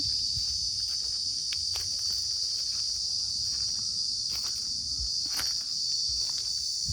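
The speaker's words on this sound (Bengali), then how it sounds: "এসে আমি ঝিঝির ডাক শুনতে পাচ্ছি।" Crickets chirp in a forest at Jhargram, explored by bicycle: a loud, steady, high-pitched insect drone runs unbroken throughout, with a few faint rustles and footstep-like taps underneath.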